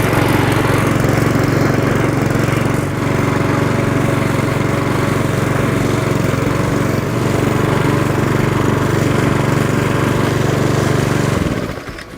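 Cobra MM48SPH mulching lawn mower engine, never started before, running steadily and loud with a constant drone before cutting off at the end.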